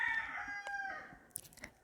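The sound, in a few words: rooster crowing outside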